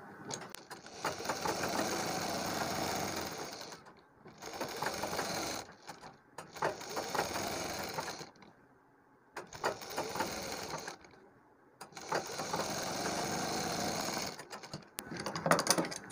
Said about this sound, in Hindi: तो यहाँ पर हम सिलाई लगा के इसे रोक लेते हैं बुकरम को